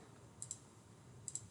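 Key presses on a TI graphing calculator, two pairs of faint, sharp clicks spaced about a second apart over quiet room hiss, with no speech.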